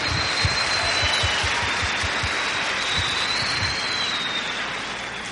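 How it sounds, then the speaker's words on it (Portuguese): An audience at a bilingual talk applauds in a steady, dense wash of clapping that slowly fades, with a faint high electronic tone running through it. "I'd like for you to give a round of applause"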